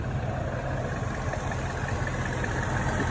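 A supercharged 4.2-litre V8 in a 2007 Jaguar XKR runs steadily at idle, producing a low, even engine rumble with a constant vibration and no talking over it.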